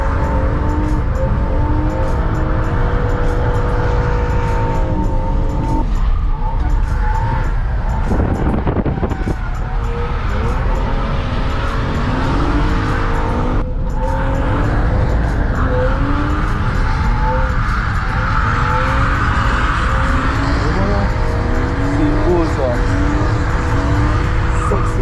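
A drift car slides around a track with tires squealing loudly, its engine revving hard throughout, while a second car runs nearby; the noise is close and continuous, with brief shifts in pitch as the car changes angle.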